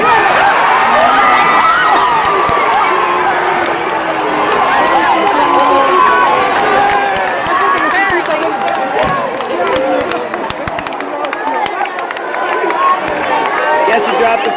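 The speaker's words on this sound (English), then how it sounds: "the crowd goes wild" A crowd at a horse riding ring event cheers and shouts loudly and continuously, with excited children's voices and chatter mixed into the roar.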